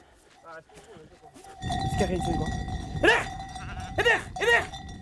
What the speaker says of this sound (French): Et là, il y a un bélier du voisin.